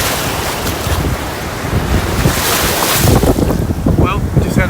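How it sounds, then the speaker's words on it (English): Choppy Gulf of Mexico surf off Anna Maria Island two days after a hurricane churns loudly, a continuous roar of breaking waves mixed with strong wind buffeting the microphone. "I didn't know the Gulf had such big waves."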